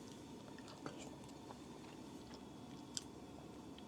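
Faint, close chewing of food while eating chicken and kimchi at a Christmas campsite, soft irregular bites and squishes over a low background hiss.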